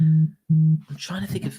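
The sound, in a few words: phone ringing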